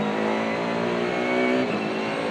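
A Maserati MC20 GT2 race car engine roars steadily at high revs on a circuit, loud and close throughout with a brief pitch dip near the end as it shifts.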